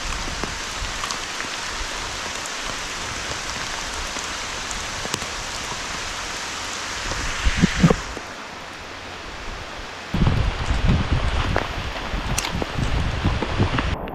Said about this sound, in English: with the rain, it really makes a lot of commotion on the surface of the water